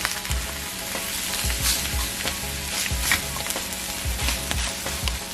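Pulled pork browning to a crisp in a hot pan, with steady loud sizzling and frying broken by repeated scraping stir strokes, close up and with no talk.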